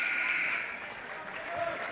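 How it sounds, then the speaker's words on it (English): An end-of-quarter buzzer in a high school basketball game between Hazen Union and Williamstown gives a brief, harsh tone at the start, then fades into gym crowd noise and voices. "And there's the buzzer."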